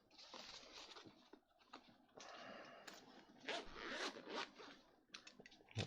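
A craft knife scores and cuts a recess out of a Disney dolls house kit part, giving faint, close, scratchy strokes that rasp in short runs with small pauses between them.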